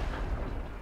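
HE cannon shell striking the player's Black Prince heavy tank in World of Tanks, a muffled low rumbling impact boom that fills the short moment with a dull, heavy roar.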